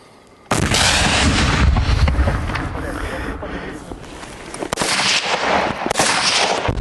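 Gunfire and explosive blasts at a Ukrainian Territorial Defense training exercise, a loud, dense barrage of booming shots and rumble after a short quiet start, continuing without letup.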